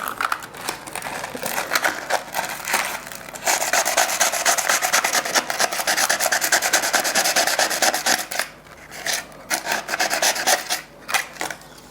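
Sandpaper rubbing a magnesium ribbon to strip off its oxide layer, a continuous rapid raspy scraping in quick strokes, close and loud, briefly easing near the end with no talking.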